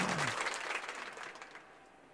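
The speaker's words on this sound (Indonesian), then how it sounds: "Tepuk tangan yang meriah buat Tuhan." Congregation applauding in church during a Christmas service, a dense wash of clapping that starts loud and gradually thins and fades over about two seconds.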